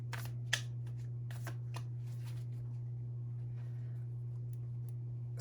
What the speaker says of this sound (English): All right, enough shuffling there.